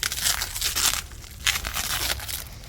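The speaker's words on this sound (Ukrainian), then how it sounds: "Я так от скотчем замотую." Crinkly tearing and stretching of adhesive tape being wrapped around a bottle of mead, repeated bursts of crackling close by with brief pauses, no talking.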